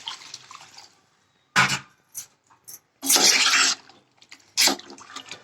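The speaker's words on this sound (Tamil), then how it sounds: "இப்போ தேவையான தண்ணி ஊற்றலாம்" Bursts of splashing water poured in short pulses into a pot of chicken and drumstick curry, with quiet gaps between, close and fairly loud.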